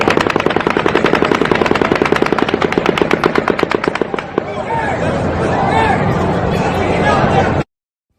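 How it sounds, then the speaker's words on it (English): Rapid automatic gunfire from the Mandalay Bay shooting rings out in a long, fast volley of sharp repeated cracks for about four seconds, then gives way to a confused din of crowd noise and shouting voices. "the 12th and final volley of automatic gunfire from Mandalay Bay begins"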